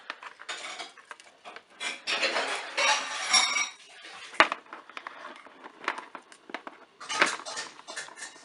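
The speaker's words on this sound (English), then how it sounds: "If you can hear that noise in the background, that is my husband, who is loading the dishwasher." Dishes and cutlery clatter and scrape nearby in irregular bursts as plates and utensils are loaded into a dishwasher and shuffled into place.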